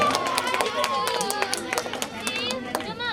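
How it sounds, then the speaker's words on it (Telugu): An outdoor picnic crowd at a gift presentation claps loudly and continuously, dense overlapping hand claps with scattered voices and chatter mixed in. "గట్టిగా క్లాప్ సార్"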